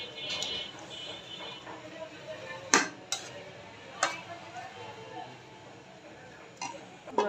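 Metal spoon scraping and clinking in a pan while dried phewa fish curry with winter vegetables, garlic and green chillies is stirred, with a few sharp knocks spaced through a low background hiss.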